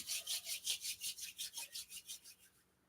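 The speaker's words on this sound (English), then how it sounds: "Rub the palms one more time." Palms rubbed briskly together during a Kundalini yoga session, a close, steady rhythm of about a dozen dry swishing strokes that slows slightly and fades out at the end, with no talking.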